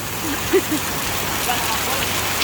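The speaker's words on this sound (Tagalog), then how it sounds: "kahit maulan" Rain falls outside as a steady, broad patter, with a few faint voices and small sounds in the background.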